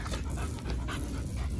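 A dog pants rapidly and steadily at close range, a breathy rhythmic huffing that continues throughout without talking.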